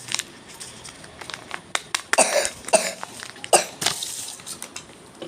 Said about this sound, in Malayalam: ചുമ ഇതുവരെ മാറിയിട്ടില്ല